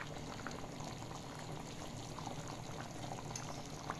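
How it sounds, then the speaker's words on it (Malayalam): Bitter gourd curry simmers in a pot at a steady, quiet rolling boil, with continuous soft bubbling and no voices. "നന്നായിട്ട് തിളച്ച് വന്നിട്ടുണ്ട്"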